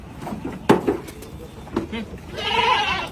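Goats for a hotel, brought in bulk by pickup truck, bleat in a short wavering cry near the end, after scattered knocks and a brief voice against a busy farmyard background.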